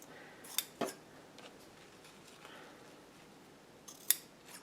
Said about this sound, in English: I can trim up the tails of my ribbon to whatever I like.